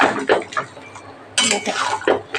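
A spoon stirs a bhetki fish-bone curry in a metal cooking pot, making several loud, close clinks and scrapes against the pot in irregular bursts.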